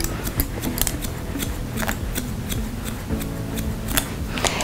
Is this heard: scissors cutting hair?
yes